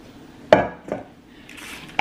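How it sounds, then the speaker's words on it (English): Chocolate chip zucchini batter with cinnamon is dumped from a bowl into a lined pan, giving a few soft thuds and scrapes of utensil against dish, close up in a quiet kitchen. "you want to dump all of your batter"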